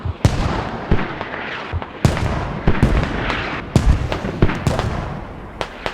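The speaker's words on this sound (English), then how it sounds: "All these mortars" Mortar rounds exploding during a competitive Squad match in the video game, with a rapid string of sharp, loud booms and cracks at uneven intervals over a busy battle rumble, with no voices.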